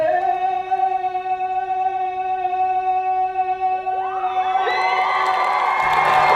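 A large crowd at an anti-racism rally outside City Hall in North Bay cheers and whoops, swelling from a steady sustained tone into loud, dense shouting and applause-like roar that fills the final seconds.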